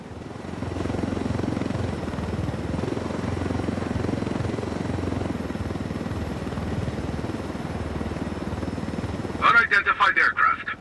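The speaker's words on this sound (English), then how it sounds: "I told Griffin I could figure out how to fly this thing. Qualify for planes. But not choppers." A helicopter in Ghost Recon Wildlands flies with a steady, deep rotor thrum and engine drone throughout; near the end a short burst of a clipped voice cuts in over it.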